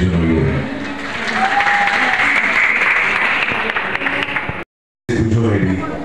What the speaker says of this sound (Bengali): সবার থেকে বেশি হাততালি আপনারা নিজেদের জন্য